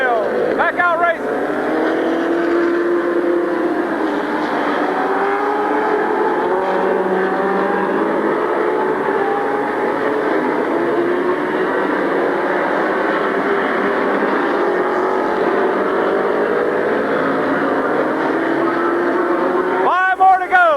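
Race cars lapping Midvale Speedway in 1992 fill the air with a loud, continuous roar of several engines, their pitch rising and falling as they pass, and the sound is steady throughout.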